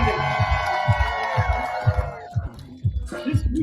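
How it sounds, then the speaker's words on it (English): A crowd of race fans at Texas Motor Speedway cheering, whooping and clapping, with a loud public-address voice rhythmically booming over the crowd noise. "Big round of applause, everybody."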